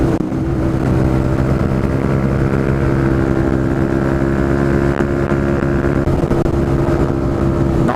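A Honda CB125R motorcycle engine revs high while riding, a steady buzzing drone that holds at high revs for the whole stretch, with no voices over it.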